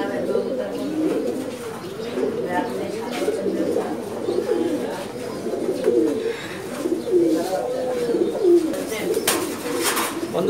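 Several pigeons coo steadily and overlapping in a breeding loft in Lalbagh, a continuous warbling murmur from many birds close by, with faint clatter in the background.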